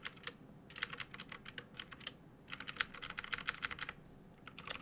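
Computer keyboard keys clack in quick bursts of typing separated by short pauses, close and moderately loud, with no speech.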